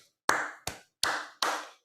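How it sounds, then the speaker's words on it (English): Four separate, sharp claps spaced roughly evenly, close and fairly quiet, a small token round of applause during a live financial-markets broadcast covering a Federal Reserve meeting. "round of applause for Gina"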